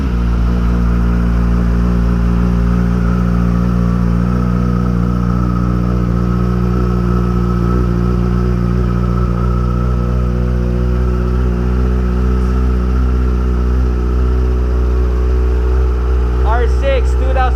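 A 2008 Yamaha R6 sport motorcycle engine runs loud and close with a steady, humming drone that holds nearly constant before a brief rising sweep near the end.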